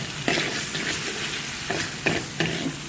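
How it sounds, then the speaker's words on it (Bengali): Gourd with beef and coriander leaves sizzles in a pan under a steady frying hiss, punctuated by several sharp scrapes and taps of a spatula stirring the mixture. "ধনিয়া পাতা দিলাম দিয়ে এটা ভালো করে ভাজা ভাজা করবো"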